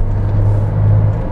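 A 1999 Porsche 911 Carrera 4 Cabrio (996) while driving, its engine giving a loud, steady low rumble with a droning hum, heard alone and close.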